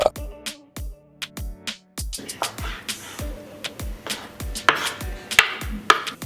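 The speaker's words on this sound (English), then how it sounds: "now that I've cut up the tuna into about 3/4 inch pieces" A kitchen knife chops raw tuna into roughly three-quarter-inch pieces on a cutting board, a close, steady series of sharp chops and thuds that quickens partway through, with no talking.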